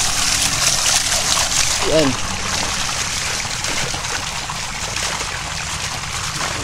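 Water rushes strongly in a stream or channel, a constant loud broadband flow, with a brief voice and a short call-like sound heard over it near the start.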